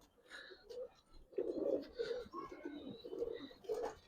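New adult pigeons, a female among them, coo softly and repeatedly while being held in hand, with faint chirps and rustling close by.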